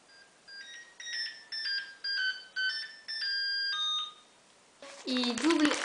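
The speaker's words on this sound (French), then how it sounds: "Téléphone." A telephone rings with a bright electronic tone in a series of short repeated bursts, fairly close and clear, followed by a brief rustle or handling noise at the end.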